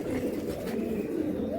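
A seven-year-old Jalchak pigeon coos in a steady, low rolling murmur that runs continuously and fairly close throughout, with no talk over it.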